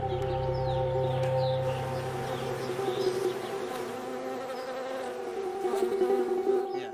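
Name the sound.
buzzing honey bees pollinating almond trees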